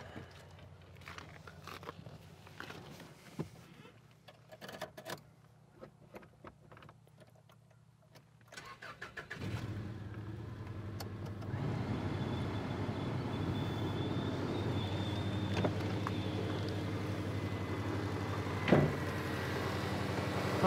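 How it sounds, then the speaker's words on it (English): A car sits quiet with faint clicks and rustles, then about halfway through the engine starts with the air conditioning switched on, settling into a steady, low, continuous hum and blower rush. "let's go ahead and start the engine up and turn the air condition on"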